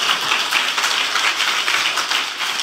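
A church congregation claps together during a sermon in praise of Christ, the dense, even clapping held steady and fairly loud for a few seconds with no voice over it.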